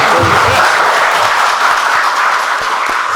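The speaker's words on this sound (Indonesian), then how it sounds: "Sekali lagi saya mau tepuk tangan buat dua pembicara." A dense, steady wash of applause from a crowd, loud and sustained for the whole stretch with no voices on top.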